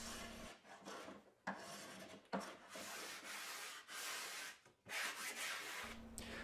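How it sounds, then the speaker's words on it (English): Steady rasping strokes of a spokeshave and sanding block smoothing the curve of wooden templates at a bench, repeated in long passes with short pauses between them, close and clear. "I then smoothed and faired the curve of the templates at the bench using a spoke shave and a sanding block."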